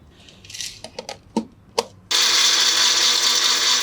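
A blender grinds grapes with their skins, crushed palm candy and water: a few short knocks and bumps, then a sudden, loud, continuous whirring roar that runs to the end.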